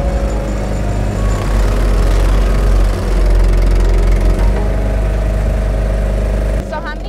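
A lobster boat's motor idles on the water in Maine, a steady low rumble running throughout, with people talking over it; near the end the engine note drops and shifts.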